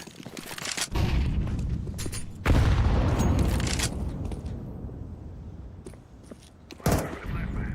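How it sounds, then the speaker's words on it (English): A flashbang grenade goes off in a video game, a loud close burst followed by a long, slowly fading rumble and a few sharp thumps afterward. "Flashbang."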